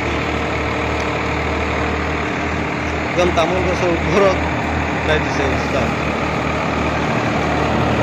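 A Sonalika Tiger tractor engine idles in a steady low drone close by, running continuously while someone talks over it.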